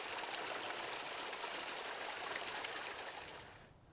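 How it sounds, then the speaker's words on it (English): Small spring trickling water into a creek in Lion Canyon on the Chiquito Trail, a steady broadband gush and trickle that stays fairly constant, close by, then fades out near the end with no voices. "this is a small, nice little spring"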